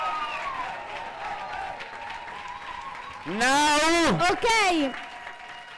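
Audience applause at a European poetry slam championship in Rome, a steady crowd clapping that swells around a loud rising and falling whooping cheer near the end, with a voice speaking briefly.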